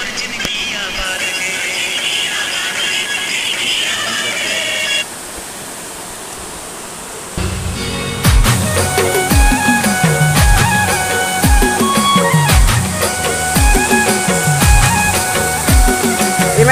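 A waterfall gives a steady, loud broadband rush of falling water, heard alone at first and then partly buried under loud music with a thumping beat.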